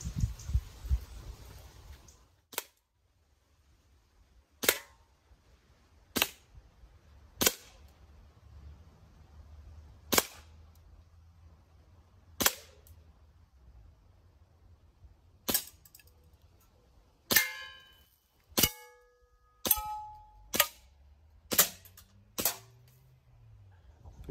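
Sharp gunshots from a Colt M1911A1 pistol crack one at a time at irregular intervals, some followed by a faint metallic ring from hit cans, with quiet outdoor hum between shots.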